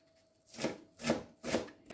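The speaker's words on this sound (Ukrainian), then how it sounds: "Одну велику цибулину нарізаю дрібним кубиком" Three soft, evenly spaced knife strokes dicing an onion on a cutting board, close and fairly quiet, with a faint tap at the end.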